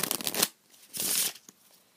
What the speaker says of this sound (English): It shuffles well.